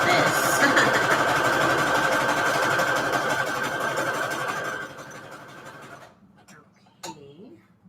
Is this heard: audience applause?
no